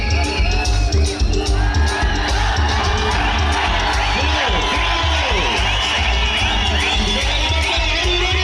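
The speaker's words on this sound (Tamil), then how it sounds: "உங்க கைத்தட்டல் அவங்களை இன்னும் நல்ல ஊக்குவிக்கும்." A large crowd at an all-India women's tournament match in Tirunelveli, Indian Railways versus Bharathi Nellai, cheers and shouts continuously, with whoops and a voice talking loudly over the noisy, echoing din.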